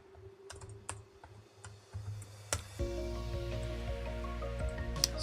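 Scattered keystrokes on a computer keyboard during a coding session, irregular clicks close by, with a steady low hum rising partway through and no talk.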